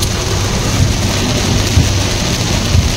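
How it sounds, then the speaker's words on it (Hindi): Heavy rain pours down on a car on a highway, heard from inside with the windows shut: a dense, constant hiss with a low rumble of thunder rolling underneath. "बारिश शुरू हो गई है"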